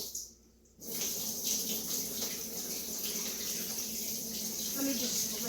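Tap water runs steadily into a kitchen sink while a sweet potato dish is rinsed, a continuous close hiss after a brief quiet start.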